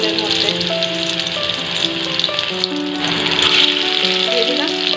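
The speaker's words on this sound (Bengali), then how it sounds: "একটু ভাজা হোক, এক পিঠটা একটু লাল লাল হোক এক পিঠটা" Eggs coated with turmeric fry in hot oil in a wok with a steady, moderate sizzle and crackle. Voices murmur faintly underneath.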